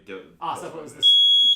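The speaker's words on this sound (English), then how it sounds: "That's a fire alarm." A fire alarm suddenly starts up, a loud steady high-pitched electronic tone cutting in right after a person's speech and holding continuously to the end.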